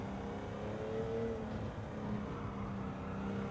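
A race car in Gran Turismo 7 holds a steady, droning engine note as it accelerates through a wet track section, loud and continuous with no talking.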